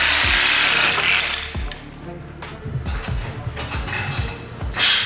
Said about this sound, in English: the bolt is super hard and you could feel the saw, the blade just kind of glide over it